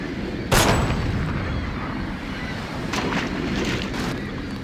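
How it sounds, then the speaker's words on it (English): A single sharp gunshot in Deus Ex cracks out early, followed by a few fainter distant reports over a steady windy ambient bed. "we can fire a bullet at this from up here"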